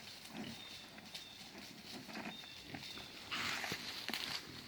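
A pig on a farm grunts and snuffles close by amid rustling, footsteps and outdoor ambience, with a brief louder burst of movement near the end.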